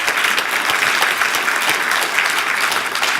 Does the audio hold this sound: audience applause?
yes